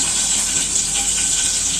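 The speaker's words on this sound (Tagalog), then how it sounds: "Kunti lang na. Kunting tubig." A little water is poured or run during cooking of a fish paksiw and bagoong dish, a steady, loud, hissing gush without pauses and with no talk.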